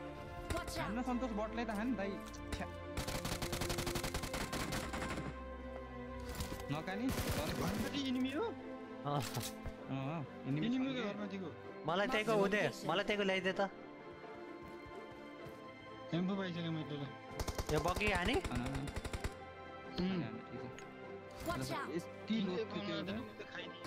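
Gunfire bursts in PUBG Mobile, with short sharp volleys scattered among excited voices of players talking over them and game sounds in the background.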